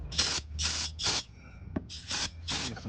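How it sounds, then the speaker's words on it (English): Brake cleaner sprays into a Toyota Tundra transmission during an oil filter and fluid change, in six short hissing bursts of aerosol from close by, with a light metallic tap between them. "We're gonna use some brake clean and stuff and spray up in here and wash out these old oil and stuff"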